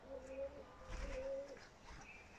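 Soft, low pigeon cooing, a few gentle repeated coos in a quiet space, faint and close.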